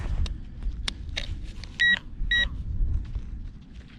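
A metal detector sweeps over ground on a dig site in the UK, giving two short electronic beeping tones over rustling and scraping handling noise.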